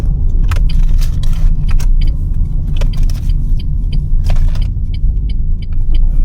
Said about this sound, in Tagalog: What's that traffic?